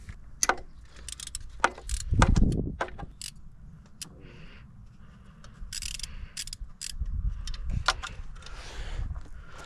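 A wrench loosens a bolt on a Ford Fiesta alternator with scattered close metallic clicks, ratcheting and clanks, plus a couple of heavier thumps, all close by and fairly quiet.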